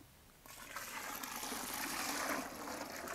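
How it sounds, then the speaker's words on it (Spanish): Cold water gushes from a tap and splashes over ash-peeled corn in a kitchen, starting abruptly after a quiet moment and pouring steadily to the end. "vamos a poner un poco de agua fría y luego sí vamos a lavar."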